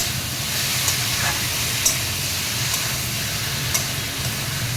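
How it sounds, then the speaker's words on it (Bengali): Jackfruit frying in oil in a pan over low-medium heat, a steady even sizzle with faint scraping clicks from stirring. "ভালো করে এটা কষিয়ে নিচ্ছি।"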